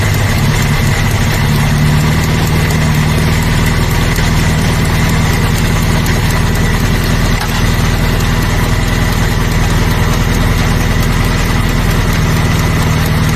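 A Suzuki Carry 1.0 engine with a flooded carburetor idles steadily as the throttle is eased back and the rpm settles, a constant loud low rumble with fine mechanical chatter and no speech.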